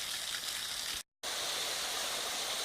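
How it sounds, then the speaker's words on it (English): A series of waterfalls at Salt Fork State Park rushes steadily in a broad, continuous roar, close and loud, with a momentary dropout of sound partway through. "It's a series of waterfalls. It just come down into this one big waterfall and then goes down over the big falls."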